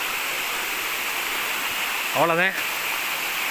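Steady broadband rush of a waterfall at Kuttupatti, water pouring continuously, with a brief spoken phrase over it near the end.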